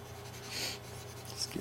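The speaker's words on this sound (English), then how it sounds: "let's try and erase all this stuff here" Writing being rubbed off a board with an eraser, a short soft scratchy swipe followed by lighter scuffs, close and quiet without speech.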